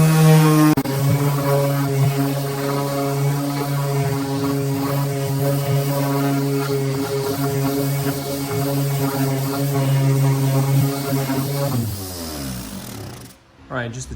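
SKIL PWRCore 20v cordless orbital sander on setting 5 with 60 grit sandpaper removing paint, a loud steady buzzing whine with strong tonal hum that runs continuously before cutting off near the end.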